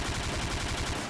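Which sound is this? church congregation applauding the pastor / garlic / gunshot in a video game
gunshot in a video game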